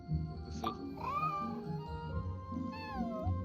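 A white cat named Snowball meows in Genshin Impact, two or three clear rising meows spaced across a few seconds over soft game ambience, with a quiet voice briefly underneath.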